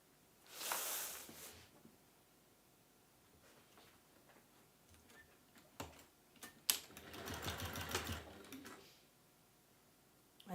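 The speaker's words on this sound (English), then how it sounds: "what I will do is sew up my turning through gap" A sewing machine stitches closed the turning gap in the lining of a slouchy velvet bag, running in two fairly quiet bursts of rapid mechanical stitching with a pause between them and no talking.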